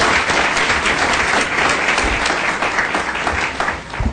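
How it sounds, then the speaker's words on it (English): Audience at a school board meeting applauds Mono, a loud, continuous round of clapping close to the microphone that runs steadily from start to finish. "So let's give a big round of applause for Mono"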